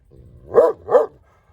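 Two loud, close barks from Turkmen shepherd dogs (Alabai) in quick succession, then quiet.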